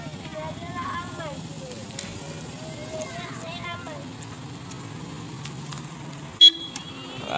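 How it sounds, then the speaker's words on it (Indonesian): A car rolls along a street where children are cycling. Its engine rumbles low beneath chatter, and a sharp, loud burst comes near the end. "Ada mobil, minggir dulu,"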